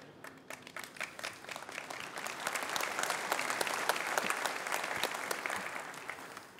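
A church congregation breaks into applause during a sermon, starting with scattered claps and swelling into steady, dense clapping that tapers slightly near the end.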